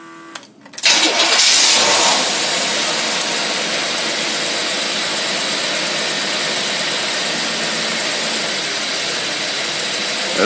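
An engine fitted with a Holley teapot carburetor fires up with a sharp burst, then settles into a loud, steady, close idle that holds evenly to the end with no speech.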